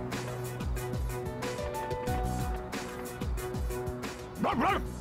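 A voice imitates a stray dog barking in the video game Persona 3 Reload, giving a string of short bark-like yelps and a rising whine at the end, close and fairly quiet.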